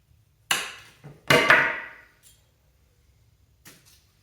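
Nails being pried out of old pallet wood, giving a few sharp creaking, scraping pulls and knocks close by, with two longer bursts in the first half and a faint one near the end.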